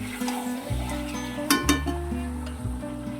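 Chicken pieces stirred in a hot pan after Kashmiri chilli powder goes in, giving a steady close sizzle with scraping and a couple of sharp utensil clinks midway.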